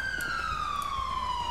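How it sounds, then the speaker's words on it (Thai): Wailing ambulance siren in the video game GTA V with the LSPDFR police mod, a steady loud tone sweeping slowly downward across the whole moment, with no other sound standing out. "ตอนนี้นะครับเราก็ทำการเรียกรถแอมบูแลนซ์มาเป็นที่เรียบร้อยแล้วนะครับรถพยาบาลนะครับ"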